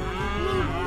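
A loud, sustained cow moo in the video game Tasty Planet, a steady tonal bellow that fills the whole second, close and prominent.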